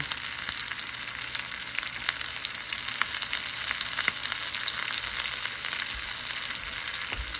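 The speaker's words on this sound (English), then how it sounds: "this is a pan fry way I'm doing this. I have to cook both sides a little." Continuous sizzle of sardines pan frying in oil, close up, with frequent crisp pops and crackles over a constant hiss.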